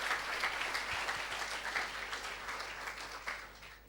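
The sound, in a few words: audience applause after lecture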